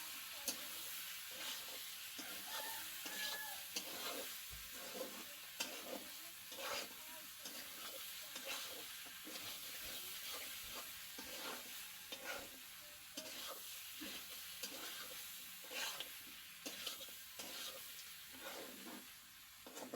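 A pork and potato curry is stirred in a pan, with quiet, rhythmic scraping strokes repeating over a soft steady sizzle throughout, faint and close.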